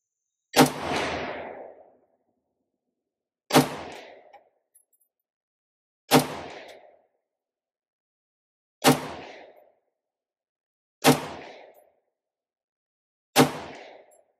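Six sharp, evenly spaced shots ring out from a Sentinel 18-inch .308 AR-10 rifle at a range, each loud crack trailing a brief echo, with roughly two to three seconds between them.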